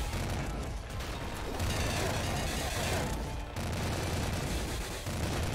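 In Nuclear Throne, a mini incinerator weapon fires continuously, giving a dense, roaring burst of game fire and crackling shots over rumbling background noise, with no pauses.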